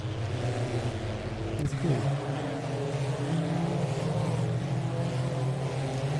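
A Glickenhaus race car's engine heard from outside at Silverstone in a racing sim, a steady droning hum that holds a fairly even pitch with one brief shift, moderately loud, with a short spoken remark.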